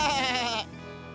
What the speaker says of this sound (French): Oh, qu'est-ce qu'il y a, petit mouton?